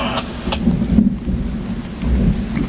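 Heavy rain pours steadily with rumbling thunder throughout a bad thunderstorm in Pittsfield, Massachusetts, a deep continuous roar with a louder swell around the middle and end, close and enveloping, no voices.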